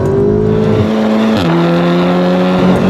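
An MK7 VW Golf R in sport mode pulls hard at the national speed limit, its engine note climbing steadily through the revs with a gear change near the middle, loud and close from inside the car with no talking.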